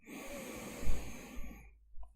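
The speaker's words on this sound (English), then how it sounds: "Take a deep breath in" One deep breath drawn in slowly and audibly through the airway, close and soft, lasting under two seconds before trailing off into quiet.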